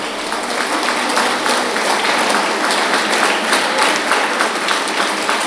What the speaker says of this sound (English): It would be very nice if you could give them a big round of applause.